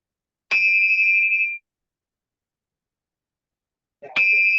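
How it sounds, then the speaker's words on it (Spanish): Two clear electronic bell tones ring out to open a study session, each a bright sustained ding lasting about a second, separated by silence. "Antes del comienzo tenemos la campana,"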